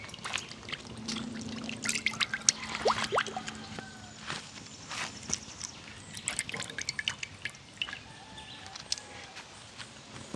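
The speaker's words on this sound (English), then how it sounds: "we're going with some oil in the pot now" Cooking oil poured into a pot, heard as close, irregular drips and trickles with small clinks and faint background noise, no talking.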